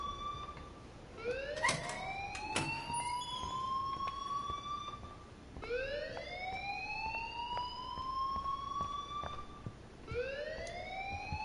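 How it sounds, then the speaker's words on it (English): A fire alarm in the video game Life Is Strange wails in repeated rising sweeps, three long whooping cycles with a steady rhythm, loud and unaccompanied. "please turn off that alarm since that's your job"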